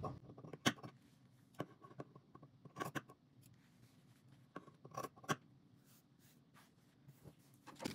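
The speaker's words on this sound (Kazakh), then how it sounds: "Артық матамызды қиып алып тастаймыз." Scissors snip through excess patchwork fabric in close, sharp crisp cuts, some single and some in quick clusters, with quiet rustling between them in a still room.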